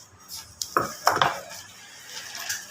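Scissors cutting blouse fabric at the shoulder, a few crisp snipping and rustling cuts close by in a quiet room, with brief clinks between them.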